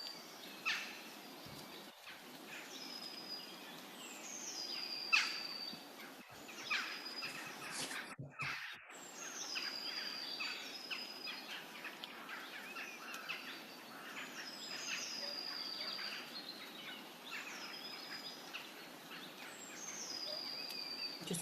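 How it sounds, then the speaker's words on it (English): Several wild birds sing and call outdoors beside a badger sett, with repeated chirps and phrases at moderate distance over steady background ambience and no talking. "Oh yay, we've got birds singing."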